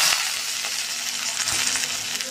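Onions browned in oil fry with ginger-garlic paste, giving a constant close sizzle and hiss with a faint clink near the start.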